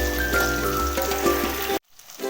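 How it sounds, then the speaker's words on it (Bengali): Tangra fish frying in hot oil, a dense, steady crackling sizzle heard up close, with a faint hum underneath, then a sudden cutoff into near silence. "দুটোকে খুব ভালো করে ভেজে নিতে হবে"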